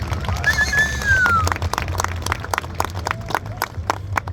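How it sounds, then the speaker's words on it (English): Scattered, moderate clapping from an outdoor audience after a Harris hawk demonstration at a wildlife expo in Charleston, with a brief high whistle early on. "How about a big round of applause for the Harris Hawks?"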